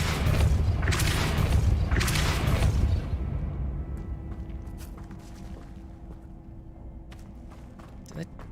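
Depulso spell cast in the video game Hogwarts Legacy: two or three loud, rumbling booms in quick succession, then a fade into quieter game ambience with light clicks and a voice at times.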